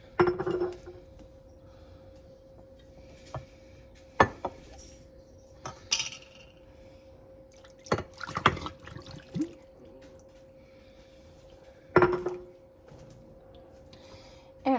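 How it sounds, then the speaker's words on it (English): Canned peaches sliding and splashing wetly from a glass quart jar into a dish, a series of scattered close plops with a few clinks against the glass, separated by quiet gaps, with no speech. "I'm going to add 2 quarts of canned peaches."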